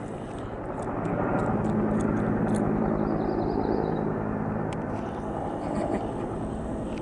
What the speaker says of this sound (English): Guys, we got two helicopters.